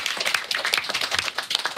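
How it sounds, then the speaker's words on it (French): A class of CM1 and CM2 schoolchildren at an elementary school claps together, a dense burst of many small hands with uneven bursts, fairly close and loud, no talking over it. "Vous êtes tous là, vous pouvez déjà vous applaudir après tout."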